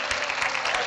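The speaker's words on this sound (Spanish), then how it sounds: "Muy bien, un aplauso, por favor." Audience applause at a church talk: a brief, dense burst of clapping from a group, filling the moment at steady loudness.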